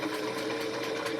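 Sewing machine stitching a seam toward a sharp corner with a pin held near the fabric edge, a steady close, continuous mechanical whir with a faint rhythmic needle pulse throughout.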